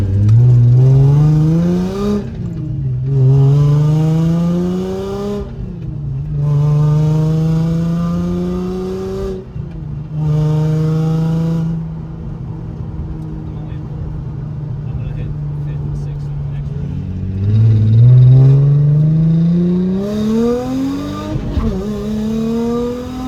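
Nissan G35 sedan drift car with a VQ35DE V6 engine, revving hard in repeated rising pulls with brief gaps between them, loud and close, with a steadier idle drone in the middle and a final climb.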